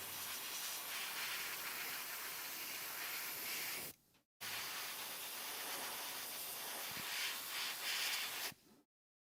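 Aerosol primer sprayed in a heavy coat onto a plastic spider model, a close, steady hissing burst that cuts off briefly, resumes, then stops.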